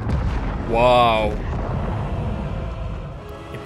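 Explosion in the fighting game Mortal Kombat 11, a loud booming burst with a rising tonal whoosh that swells around the first second, then decays into a rumbling tail under the game's continuing sound.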